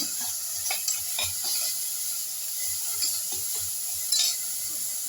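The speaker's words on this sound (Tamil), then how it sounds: "ரெண்டு வெங்காயம் ஒரு தக்காளி சூளம் போட்டு கொஞ்சம் வசக்கி விடுங்க" Onion and tomato sauté in a pan with a steady soft sizzle, while a utensil stirs with occasional light scrapes, close and moderate in volume, no talking.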